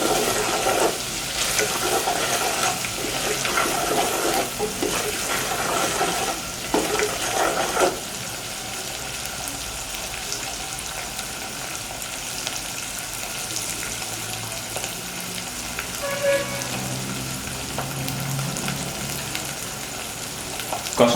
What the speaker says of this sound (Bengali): এগুলোকে ভালোভাবে নেড়ে চেড়ে একটু কষিয়ে নিব।